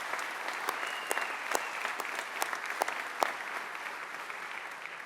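Steady applause from a large audience welcoming state supreme court justices at a Mississippi State of the State address, a dense continuous patter of clapping with scattered sharper claps throughout.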